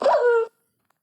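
A single short, tonal dog bark or yelp in Minecraft, close and clear, then silence.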